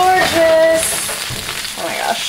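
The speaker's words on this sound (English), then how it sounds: "It's still sizzling" Roasted cabbage fresh from the oven sizzles steadily on its hot pan, a close, continuous crackling hiss with scattered faint pops and light clinks over the short stretch.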